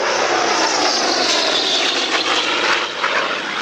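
Loud, roaring propeller engine of a warbird aircraft at full power, nearly 2,500 horsepower, at an air display, a dense sustained drone that stays powerful throughout, close by.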